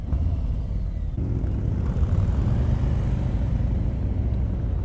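A 2019 Harley-Davidson Street Glide 107 engine rumbling steadily with throttle blips, a deep, close, continuous low drone that swells slightly without sharp peaks.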